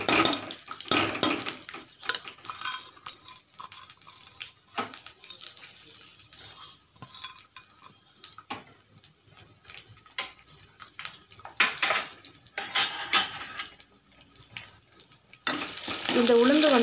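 Urad dal, dried chilies and garlic sizzle in hot oil while being stirred in a pan, with repeated metallic scrapes and clatters of utensil on pan in uneven bursts over a low crackle, and no speech.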